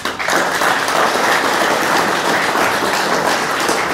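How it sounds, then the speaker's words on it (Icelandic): An audience at an Icelandic symposium on democracy and sovereignty claps for a politician; a full, steady round of applause holds evenly for the whole stretch with no voices. "ég vil að við gefum honum gott klapp"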